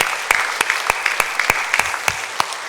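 A church congregation claps together at the close of a Sunday daytime worship service. The claps come as distinct, evenly spaced beats over a steady background hum, and no voices are heard.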